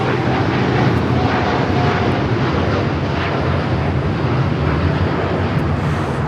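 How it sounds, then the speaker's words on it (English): United Airlines Boeing 787-9 Dreamliner taking off at LAX, a loud steady jet engine roar with wind buffeting that stays constant throughout, no talk over it. "This is United Airlines 198 taking off to Shanghai on the 787-9 Dreamliner."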